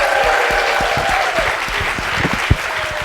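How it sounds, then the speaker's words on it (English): Audience at a research slam event applauding and cheering, dense steady clapping from a crowd filling the room with a few whoops, loud and close throughout. "Let's give a big cheer for Lawrence Livermore to show them our support for our postdocs"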